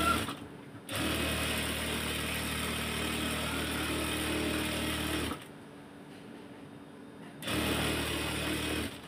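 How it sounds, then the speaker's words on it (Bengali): A sewing machine stitches a shirt being taken in for a better fit, its steady motorized whir running close and loud in two long bursts separated by a brief pause, with no talking. "এটাকে আমি দুটা সেলাই দিয়ে দিব।"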